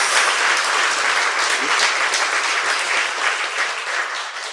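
Dense, sustained applause from a studio audience at a Korean podcast taping, many hands clapping continuously and evenly with no voices standing out.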